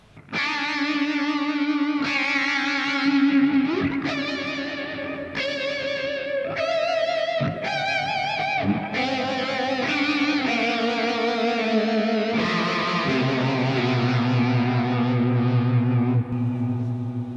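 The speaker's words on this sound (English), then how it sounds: "one preset that's kind of over the top with the chorus" Electric guitar through an Amped ML Plexi preset drenched in heavy, warbling chorus, notes wobbling and swirling in pitch as chords and melodies ring out continuously for several seconds.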